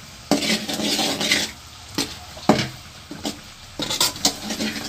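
Ground flaxseed stirred in hot ghee in a pan, giving repeated scraping strokes over a soft steady sizzle, close and fairly loud with no talk.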